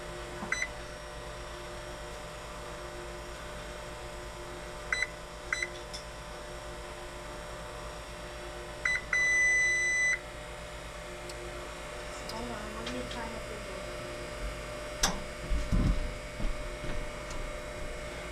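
The control panel of a kitchen oven chirps short electronic beeps while its cook time and timer are set. A few single and paired beeps sound early, then a longer tone, all under a low hum with occasional background talk.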